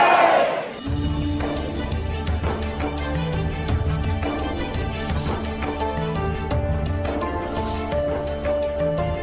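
A large crowd of devotees at Barsana Radha Rani temple, a loud steady murmur of many voices with shouts and chants rising over a continuous tonal drone of music or singing.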